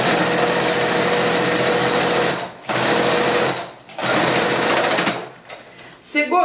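A sewing machine stitches stretched elastic onto fabric for a festa junina skirt, running in loud, steady bursts with two short pauses before trailing off, while a person speaks.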